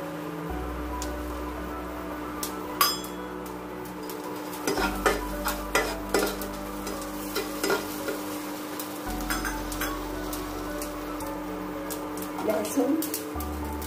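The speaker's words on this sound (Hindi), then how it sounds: "कढ़ाई गर्म हो गई और इसमें जीरा डाल देते हैं, आधी चम्मच जीरा, 10-15 दाने काली मिर्च के," Cumin seeds and black peppercorns sizzling in a hot kadai, a steady soft frying hiss with repeated stirring clicks and scrapes of a spoon, close by under occasional talk.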